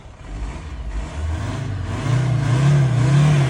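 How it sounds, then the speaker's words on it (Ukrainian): A 2005 Volkswagen T5 van's 2.5 TDI diesel engine revs up steadily, its low rumble climbing in pitch and loudness over a few seconds, close and continuous. "Давайте ще покажу, як двигун бере оберти."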